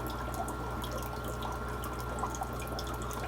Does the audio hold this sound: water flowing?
yes